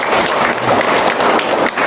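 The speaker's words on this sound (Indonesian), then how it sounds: "Itu tepuk tangan dulu pemerintah." Applause from an audience at a government outreach session, a dense, steady wash of clapping that fills the whole stretch at close range with no pause.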